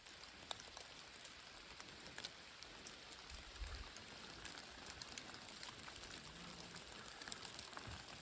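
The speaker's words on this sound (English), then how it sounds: "listen to the rain hitting the" Soft, steady rain patters on the trees of a mountain peak in Arizona, a faint continuous hiss with scattered drops, heard alone with no voices.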